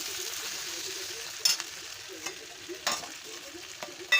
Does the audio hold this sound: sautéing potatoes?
yes